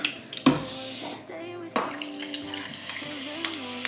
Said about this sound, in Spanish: Agua con gas por encima.